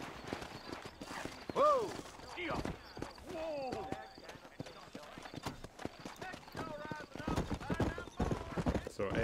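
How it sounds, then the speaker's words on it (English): Horse hooves clip-clop at a quickening pace while riding in the Western video game Red Dead Redemption, with a whinny and someone talking over the galloping rhythm. "So A makes the horse go a little faster."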